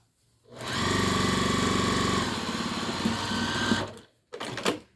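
A sewing machine sews a French seam on an apron. It is a loud, close run of about three and a half seconds that starts and ends sharply, followed by a short burst of fabric handling.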